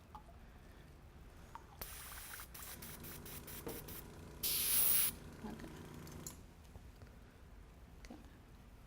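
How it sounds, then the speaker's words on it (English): Airbrush spraying paint in quick short bursts and one sustained hiss, with a brief spoken word between sprays. "It's always the airbrush, isn't it? Always the airbrush."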